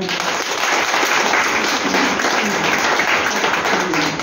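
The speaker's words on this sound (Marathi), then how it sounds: "तर अशा नीताताईंसाठी एकदा जोरदार टाळ्या" An audience gives a loud, sustained burst of applause at a hosted stage event, dense clapping from many people that stays even and close for several seconds.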